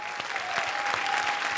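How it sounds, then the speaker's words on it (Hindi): A comedy show audience breaks into applause for the comedian, a brief but full burst of many hands clapping at an even level, with a faint steady tone running beneath and no talking. "जोरदार तालियां राजू जी के लिए"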